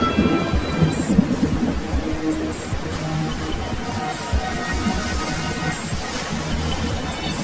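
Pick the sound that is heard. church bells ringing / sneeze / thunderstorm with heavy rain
thunderstorm with heavy rain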